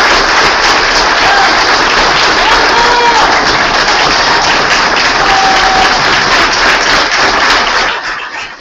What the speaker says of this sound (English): Ladies and gentlemen, let's have another round of applause.